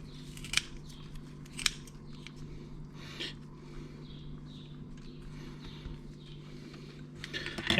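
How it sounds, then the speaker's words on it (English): Kitchen shears snip fresh basil leaves into a pan of white wine spaghetti, giving a few sharp, separate clicks spaced seconds apart over a low steady hum. "I'm just going to take my kitchen shears and nip off bits and pieces"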